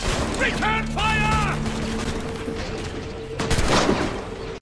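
Musket volleys crack out in an Assassin's Creed III battle at Lexington and Concord, broadband blasts rising loud near the end while a commanding voice and other game dialogue play over the gunfire.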